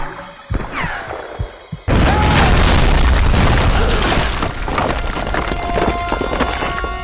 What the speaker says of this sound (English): Oh shit! The grenade launcher.